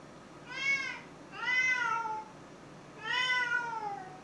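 A cat meows loudly and close by in three drawn-out, rising-and-falling cries with short pauses between them, and no voices over it.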